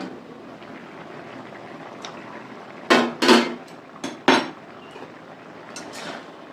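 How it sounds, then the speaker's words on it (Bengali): A metal lid comes off a cooking pot of pointed gourd curry with cottage cheese fritters, giving a few sharp clanks over a low background simmer. "আমি এবার ঢাকাটা খুলে দেব দেখি কেমন হয়েছে কতটা"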